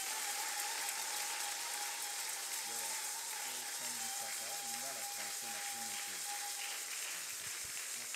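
A church congregation applauds as a woman preacher comes forward, steady clapping filling the room at a moderate distance, with a sustained tone and voices or music running beneath the applause.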